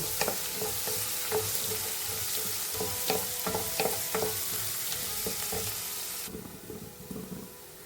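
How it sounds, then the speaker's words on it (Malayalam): Onions frying in a pan for a potato stir-fry until golden brown, with a dense continuous sizzle and repeated scraping stir strokes up close, easing slightly toward the end. "ഒരു ഗോൾഡൻ ബ്രൗൺ ആകുന്നവരൊന്ന് വഴറ്റിയെടുക്കണം നമുക്ക്"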